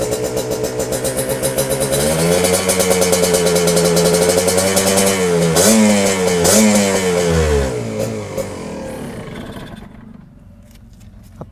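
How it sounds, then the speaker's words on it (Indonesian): A restored Kawasaki Ninja R motorcycle engine starts, revs up and down several times in loud, close bursts with rising and falling pitch, then dies away near the end. "Suara mesinnya halus banget."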